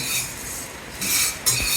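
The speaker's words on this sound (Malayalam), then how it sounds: "അപ്പം നാടൻ കാപ്പിക്കുരു വറുത്തെടുക്കാം നമ്മൾക്ക്." Native coffee beans being stirred as they roast in a pan, dry rattling and scraping with metallic clinks, steady and close, growing louder in two bursts near the end.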